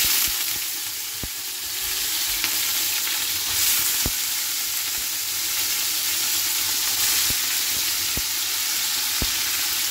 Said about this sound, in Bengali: আর এদিকে তো ভাজা হচ্ছে আমার